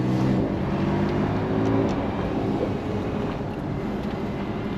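A Porsche 911 992 Carrera S with 450 horsepower and sport exhaust, in sport mode, heard from inside as a steady low engine drone under wind and road noise, easing slightly toward the end.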